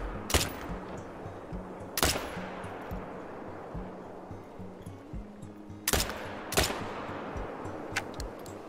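Sharp rifle shots aimed at animals in the hunting game theHunter: Call of the Wild, in two pairs: two loud cracks early, a pause, then two more a few seconds later over a low steady background hum.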